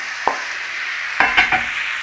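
Sausage meat is stirred into oats in a pan, a low steady sizzle with a single early knock and then a short cluster of spoon scrapes and clacks.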